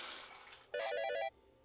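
A short watery burst from a water spell in a video game, with a bright chiming shimmer riding over the splash for about half a second before it cuts off, fairly faint overall.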